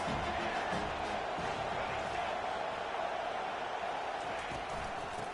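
Hostile football stadium crowd keeps up a steady, loud roar of broadband noise that stays even and dense from start to end, with no distinct cheers standing out.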